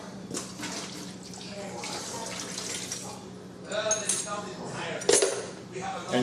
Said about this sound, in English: next we're simply going to pour the water out.